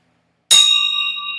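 A bell is struck once, giving a sharp, loud ding that rings on with a clear, slowly fading tone after a moment of silence.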